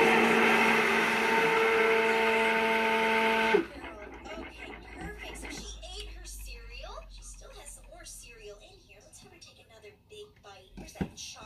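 A stick blender whirs loudly and steadily as it mixes cow's milk soap batter in a small takeaway cup, then cuts off abruptly, and someone talks over quieter background afterward.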